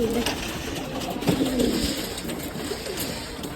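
Low cooing of Giribaz tumbler pigeons murmurs through a busy background of scattered clicks and flutters, fairly faint and continuous without clear speech.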